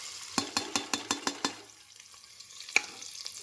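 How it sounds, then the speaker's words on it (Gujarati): Onions frying in melted butter and oil, opening with a quick run of about seven regular clacks of a spatula against the pan, then a softer sizzle with a sharper knock and scattered light scrapes. "ડુંગળીને આપણે શેકી લઈશું મસ્ત."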